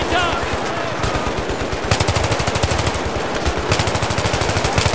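Rapid automatic gunfire from a firefight against a sniper in Battlefield 3, a dense, continuous rattle of shots with bursts growing louder and sharper midway, loud and close throughout with no clear talk.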